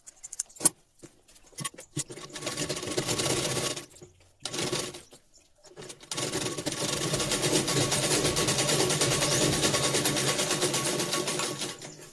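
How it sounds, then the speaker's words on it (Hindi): A sewing machine stitches a blouse seam with a few short starts and clicks, two bursts of running, then a long steady stitching run at moderate volume. "इस तरह से मैंने इस पर सिलाई कर लिया आधा इंच दबाकर"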